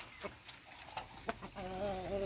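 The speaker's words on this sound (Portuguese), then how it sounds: "E aqui tá as nossas galinhas. As nossas galinhas estão bonitas" Free-range hens in a coop give a few soft, spaced clucks at first, then a longer, louder warbling call rises near the end, close by amid quiet farmyard ambience.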